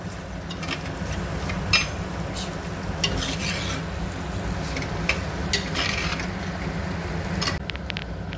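Drumsticks and peanuts fry steadily in a pan with a continuous busy sizzle, broken by a few light scrapes and stirring clinks of a utensil against the metal, with no voices.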